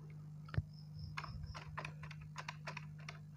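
Fingers typing on a computer keyboard, a quick irregular run of soft key clicks close by over a faint steady hum.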